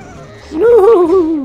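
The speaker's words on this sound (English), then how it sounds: "That's the sound of a dying rabbit" A dying rabbit cries out in the PlayStation 2 game Spyro: Enter the Dragonfly, a single loud, wavering, honk-like wail lasting about a second after a brief quiet lead-in.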